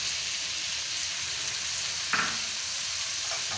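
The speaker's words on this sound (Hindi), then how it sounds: "इसे 2 से 3 मिनट तक आपने इसको भून लेना है लो फ्लेम पे" Potato filling for aloo paratha sizzles steadily in a pan over a low flame, a soft even hiss with one brief clink partway through and no talking.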